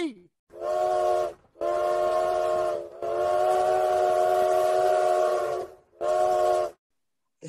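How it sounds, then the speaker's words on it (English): A train emerging from a tunnel in a dramatized audio play gives four loud, long whistle blasts separated by short gaps. The sustained tones ring close and dominate, with no voices. "The train emerged from the tunnel"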